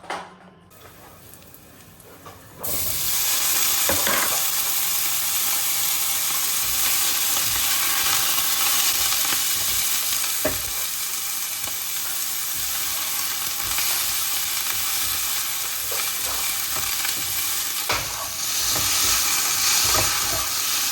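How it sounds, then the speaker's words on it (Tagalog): Stir-fried food sizzles loudly in a pan, the hiss bursting in after a quiet couple of seconds and then roaring continuously, with occasional clinks and scrapes from stirring. "I-stir fry ko lang."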